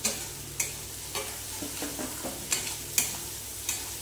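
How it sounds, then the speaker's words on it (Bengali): Tomato masala for mango chicken is stirred and fried, with a soft sizzle beneath a series of sharp, irregular spatula scrapes and taps against the pan, close and moderately loud. "এবার নাড়তে নাড়তে পুরো ভেজে ভেজে এটাকে এবার ভালো করে কষে নেবে"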